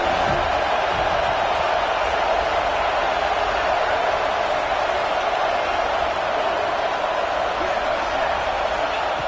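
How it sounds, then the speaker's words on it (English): A packed football stadium crowd roaring during a Texas vs USC game, a dense, sustained wall of cheering that stays loud and constant while a commentator talks over it. "the crowd coming to life here, trying to help this defense down in the red zone"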